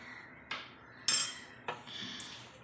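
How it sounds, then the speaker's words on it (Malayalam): Pineapple halwa batter of maida is stirred in a pan, giving three or four sharp metallic clinks of a spoon against the pan with a soft scraping in between, close and quiet. "മൈദ ഒഴിച്ചു കൊടുത്തതിന് ശേഷം നല്ലതുപോലെ ഒന്ന് ഇളക്കി കൊടുക്കുക"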